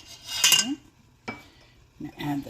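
Creamy lemon turkey soup being stirred in a pot after half and half and turkey go in, a few separate bursts of utensil clinking and scraping against the pot with quiet pauses between.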